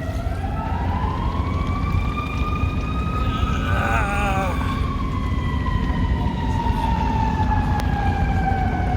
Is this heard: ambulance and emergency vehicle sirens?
yes